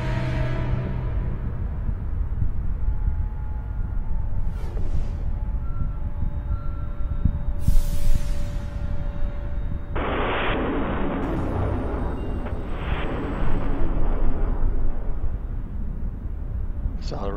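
The twin solid rocket boosters of Space Shuttle Atlantis roar during launch as a continuous deep, crackling rumble that fills the clip, with a narrator speaking over it.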